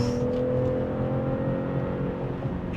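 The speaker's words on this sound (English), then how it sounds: "Beautiful engine sound." Engine of a 2026 BMW X3 M50 or M40i revving while driving twisty roads, a steady droning engine hum with a faint whir, heard without talk.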